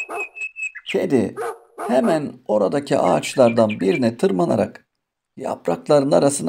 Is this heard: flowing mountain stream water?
no